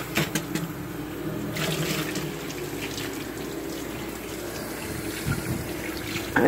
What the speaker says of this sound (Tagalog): Mahina lang ang tubig.